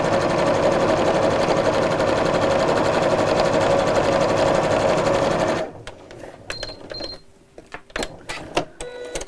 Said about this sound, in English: And sew straight down all of these lines.